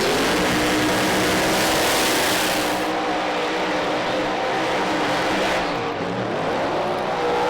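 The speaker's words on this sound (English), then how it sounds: "Strong burnouts for both of them" Two drag racing cars roar through burnouts at a British Drag Racing Championship Pro Mod event, a loud sustained engine howl and tire scream filling the whole stretch, heard close and continuous.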